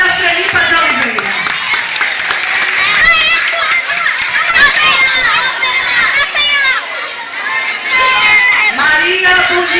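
A crowd at a live cultural event in Coité claps and cheers, with children shouting and voices calling out over steady, loud applause that dips briefly near the end.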